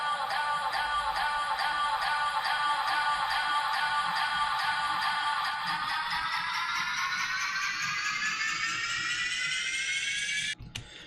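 A vocal in a music production is run through eighth-note delay and heavy reverb, with repeats stacking into a dense wash that is pitched steadily upward over the second half before cutting off abruptly near the end.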